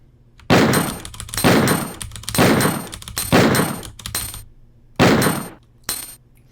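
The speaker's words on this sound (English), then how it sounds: "here's me trying to quick shoot the Magnum the normal way by holding shoot and mashing aim" Magnum revolver in Resident Evil 2 fired in quick succession, six loud, heavy booming shots with ringing tails, four spaced about a second apart, then a pause and two more, with no talk.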